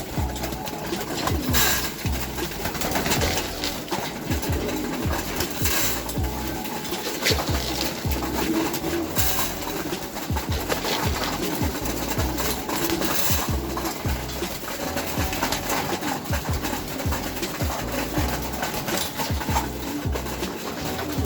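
Racing pigeons coo softly and repeatedly in the background over a steady bed of outdoor ambience, with no talking.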